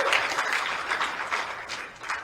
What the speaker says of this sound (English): Go ahead, let's clap for Dom